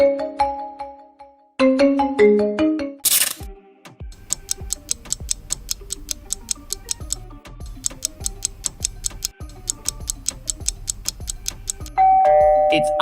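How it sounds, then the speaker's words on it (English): An iPhone ringtone plays on a Lenovo phone: a few melodic chime notes, a brief bright burst, then a long run of crisp, evenly spaced plucked marimba-like tones in a repeating rhythm, clear and alone. "It's iPhone ringtone in Lenovo."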